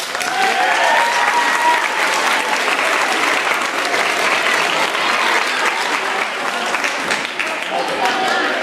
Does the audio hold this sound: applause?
yes